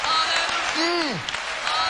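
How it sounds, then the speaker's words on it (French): Congregation applause in a church service, a dense spread of clapping under a voice that swoops in pitch, with talk over the crowd. "Let's give the Lord a hand clap."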